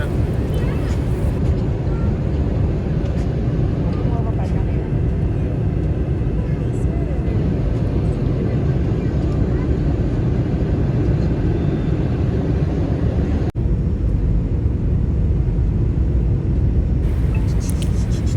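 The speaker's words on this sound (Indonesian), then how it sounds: "ini dia kita akhirnya landing di Bandara Internasional Minangkabau" Loud, continuous engine roar and rumble inside a passenger airplane landing at Minangkabau International Airport in Padang, steady throughout with a brief dropout near the end.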